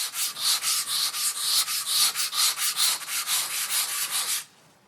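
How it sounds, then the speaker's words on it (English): Skim-coated wall being sanded by hand with 180 grit sandpaper, a steady series of about fifteen rhythmic scraping strokes, close and loud, stopping abruptly near the end with no talking. "Here you can see how easy it is to sand down raised lines."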